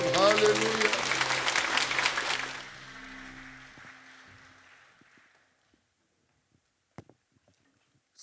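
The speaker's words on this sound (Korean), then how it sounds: "영광의 박수 드립니다." A church congregation claps during a Sunday service, a loud burst of applause that fades out within a few seconds and leaves near silence with a couple of faint knocks.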